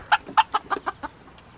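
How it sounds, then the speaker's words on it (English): A chicken clucks in a quick series of about six short, sharp notes on a farm, fading slightly toward the end, close by with little else around. "I think the chickens are hoping you're gonna drop some grain there, Hope."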